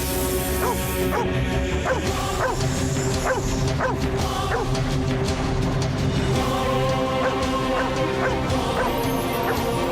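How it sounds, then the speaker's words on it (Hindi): A dog barks repeatedly in a quick, steady run of sharp, near barks and yips during a scene from a Hindi TV drama, over a constant dense background of music and noise. "अब हमें देखकर भौंक रहा है"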